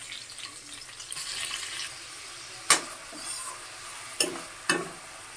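Onions going into hot oil already holding green chillies and curry leaves for a mutton curry, a soft hiss broken by a few sharp clinks and sizzle bursts.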